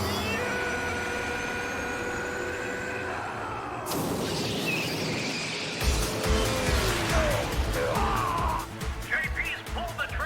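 Race cars in the Night Runners street-racing video game: a whining engine tone holds steady, then breaks into a louder surge with squealing tires and gritty revving near the end, continuous and up close.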